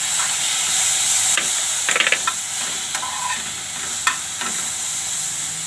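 Cumin and chutney sizzle in a hot pan for papaya sambharo, a continuous close hiss with a few clicking and scraping stirs against the metal.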